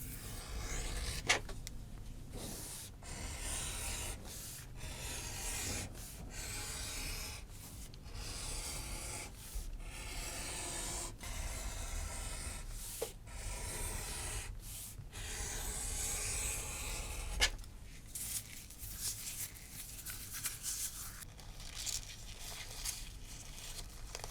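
An oak board's edge is rounded over by hand, giving a steady run of close, rasping rub strokes with brief pauses between passes. No voices are heard.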